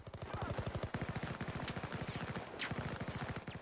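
Rapid automatic gunfire in the combat video game Battlefield 4, a steady stream of fast rhythmic shots that runs without a break at close range and fairly loud level.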